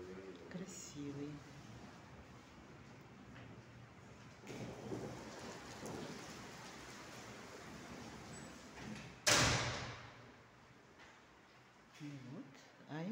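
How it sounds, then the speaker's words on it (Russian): Rain falls steadily outside a hotel lobby door, a soft continuous wash heard from indoors, with a sudden louder gust or rumble partway through. "Сегодня идет дождь."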